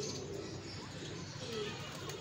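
King pigeons softly cooing in a low, faint murmur under steady background noise, with a few brief brighter calls.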